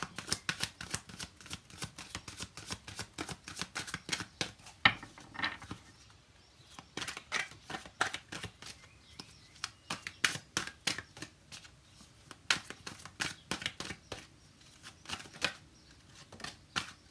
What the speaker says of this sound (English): I also decided to stay quiet when I shuffle, as to be focused on the cards.